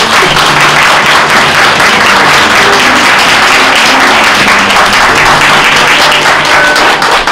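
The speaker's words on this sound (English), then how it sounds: "let's give them another round of applause for a great performance" Audience applause after a concert performance, a loud, dense wash of many hands clapping that holds steady for the whole stretch without voices.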